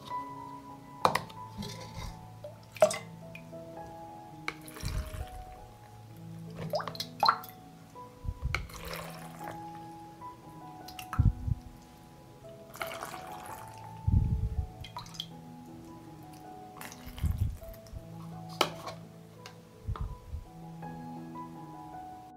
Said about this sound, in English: I pour the cooled dressing into the jars to cover the blueberries.